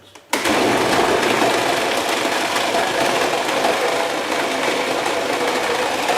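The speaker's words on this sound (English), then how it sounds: "what I'm going to do is turn it on full blast and turn the whole machine, lifting it with both hands." A kitchen machine grinding ground chuck kicks on abruptly and runs at full power, giving a loud, steady, high-pitched motor whine with a slight wavering as it is moved around.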